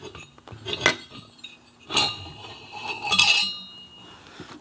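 Metal clinks and knocks as the cylinder barrel comes off an Aermacchi motorcycle engine during a teardown, three distinct clattering bursts close by, with lighter scraping between them and no talk.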